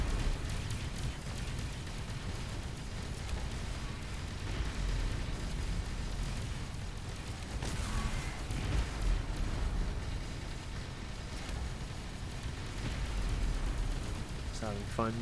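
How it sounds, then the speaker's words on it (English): A heavy, continuous rumble of weapon fire and explosions comes from a space battle against a large pirate mothership in the game Avorion. A voice talks over the barrage. "Maybe we'll fire some torpedoes at it"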